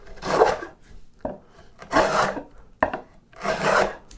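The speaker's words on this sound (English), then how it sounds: "They just have a regular shoulder plane and stick their fingers in there to be a fence." A shoulder plane cuts a groove in wood in three separate rasping strokes, each about half a second long, with quiet gaps between them. The sound is close and alone.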